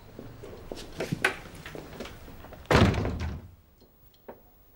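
A door swings shut with a single solid slam in an indoor doctor's surgery, loud and close, followed by quieter room ambience.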